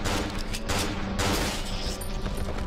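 Rapid bursts of gunfire in the horror game Cry of Fear, loud and dense, with shots overlapping continuously for nearly three seconds, no voices.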